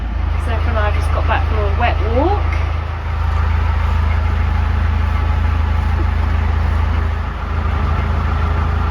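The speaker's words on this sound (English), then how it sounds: "I'm running the engine in out of gear to charge up the batteries" A narrowboat's diesel engine idles out of gear to charge the batteries, a steady low drone running throughout while a person talks over it.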